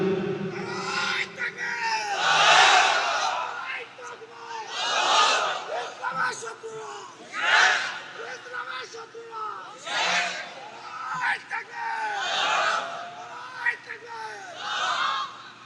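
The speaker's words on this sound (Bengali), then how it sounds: "যে ভাই তাকবীর দিয়েছেন কণ্ঠের ভিতরে আল্লাহ তাআলা দারাজতা দিয়েছেন" At an Islamic waz sermon, someone repeatedly shouts the takbir loud and close, and a crowd roars back after each call in a rhythmic call-and-response that keeps going throughout.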